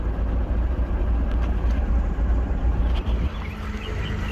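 A 1976 Fiat Spider with a newly fitted carburetor idles steadily after sitting unused for years, a low, even engine rumble close by with faint fan whir and small ticks over it.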